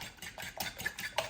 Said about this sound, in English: Now I just use a fork to beat my eggs up with